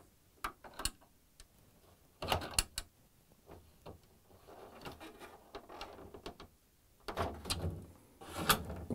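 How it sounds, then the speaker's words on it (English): The freezer drawer of an LG/Kenmore refrigerator is lifted out, giving scattered plastic clicks, knocks and sliding scrapes in short bursts at close range. "I'm going to lift up on this drawer."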